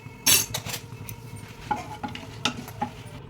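Cumin, four cloves, a bit of cinnamon, two cardamom pods and a bay leaf are stirred in hot oil in a pan for Telangana-style chicken curry. A spoon scrapes and clinks against the metal over a soft sizzle.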